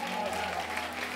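An audience applauds a live band in a café during a show, a steady dense clapping wash that lasts the whole short moment, with a voice talking over it.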